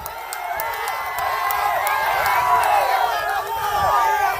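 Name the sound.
crowd clapping and cheering at political rally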